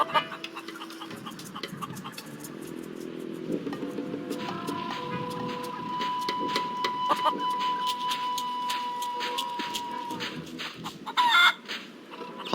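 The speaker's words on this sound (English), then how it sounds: "Plunder Island feral chicken, one of Plunder Island's most common fauna" Feral chicken on Plunder Island in The Curse of Monkey Island, clucking softly and intermittently over a busy, faint background of game ambience and clicking, with a louder squawk near the end.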